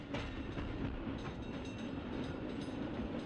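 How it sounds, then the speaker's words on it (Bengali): A Ballygunge down tram in Kolkata rumbles past with steady rail noise and a faint clickety-clack, a continuous low roar of wheels on track, moderately distant and unbroken, with no voices. "কলকাতার বালিগঞ্জ ডাউন ট্রাম ঘন ঘন ঘন্টা বাজাতে বাজাতে এগিয়ে আসছে রাসবিহারী এভিনিউয়ের দিকে"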